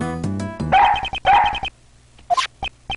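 A dog barking in the video game Ace Attorney Investigations 2, several short sharp barks and yips in quick bursts, close and fairly loud, with a brief whimpering note near the end.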